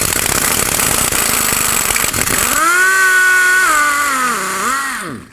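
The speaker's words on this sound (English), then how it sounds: "I'm actually going to get my air gun at this point so I can spin it a bunch" Pneumatic air gun spinning a bolt on a 1997-2003 Ford F-150 during rear brake hose work: a loud, rattling whir that gives way to a high whine rising and falling in pitch as the tool spins, close and alone.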